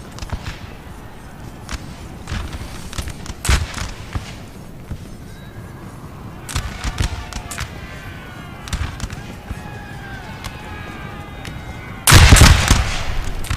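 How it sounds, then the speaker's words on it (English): Line infantry in Empire: Total War let off a ragged musket volley: scattered gunshots crack over several seconds amid horse whinnies and battle noise, ending in a dense, loud burst of fire. "they got a very good volley off on them right now"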